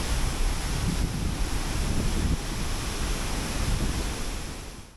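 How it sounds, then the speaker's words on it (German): The tallest man-made waterfall in the world, in Italy, roars as a dense, loud, unbroken rush of falling water with wind buffeting the microphone, easing off only at the very end. "wir sind in Italien und stehen vor dem höchsten Wasserfall der Welt, der von Menschenhand angelegt wurde"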